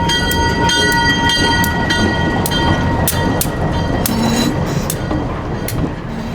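A train rolling past in the Colorado mountains, loud and close, with continuous rumble, rhythmic clacking of wheels on rail joints and tonal squeals, heard alone without voices.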